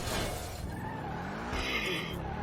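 Benefactor SM722 supercar braking hard and skidding in a GTA game, a continuous engine roar with a rising tire-squeal tone near the end, loud and close, no talk.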